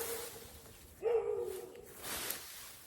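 Dogs in a neighbor's yard near a fig-tree garden give a short, moderately loud bark burst around the middle, with fainter yips before and after.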